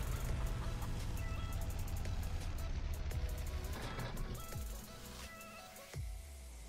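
Chickens cluck in the farming game Farming Simulator 19 over the steady low drone of an idling truck engine, with repeated short clucks through the middle before the engine noise eases toward the end.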